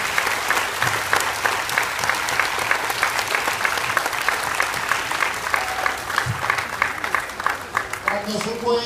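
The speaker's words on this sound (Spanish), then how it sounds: "Un aplauso para mi mamá" Students and families at a primary school civic ceremony give loud, continuous applause, a crisp steady rush of many hands clapping close by that swells slightly before tapering at the end.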